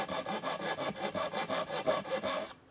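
A Zetsaw Japanese hand saw makes a fine cut through wood, about ten even, quick rasping strokes in a steady rhythm, close and alone, ending in silence.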